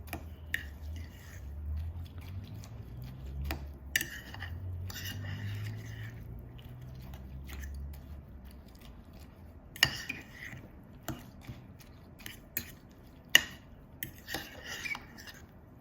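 An almond milk mixture is stirred in a bowl, with soft scattered clinks of a utensil against the dish and a few sharper taps over quiet background noise.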